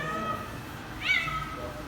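A Van cat gives one short, clear meow midway through, set against a steady background hum.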